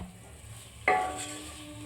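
Fried potatoes with spices stirred in a pan, a soft background sizzle broken by a sudden clatter of a utensil scraping the pan, followed by continued frying.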